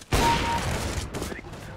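A loud, close burst of rapid gunfire in Counter-Strike: Global Offensive starts abruptly and rattles on for about a second before tapering into a fainter trailing shot or two.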